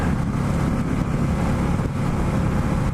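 A 2017 Indian Scout motorcycle cruising in third gear at about 60, its engine a loud, steady low rumble mixed with rushing wind noise, continuous and close, with no talking.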